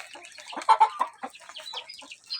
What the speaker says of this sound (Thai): แม่ไก่ที่ เขาออกลูก ลูกใหม่เนาะก็จะเอามาชำไว้นี่ก่อน